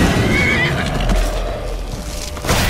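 A horse in the video game Skyrim whinnies loudly and close, a rising, shaky neigh over a busy background of game sounds and low rumble.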